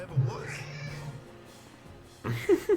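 Recorded cat meows played from a smart speaker, a few drawn-out mewing calls at moderate volume with a pause in between, mixed with a person talking.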